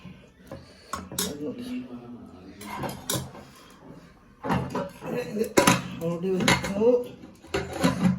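A utensil stirring food in a pan, clinking and scraping against metal in intermittent bursts, close by, while a person talks throughout.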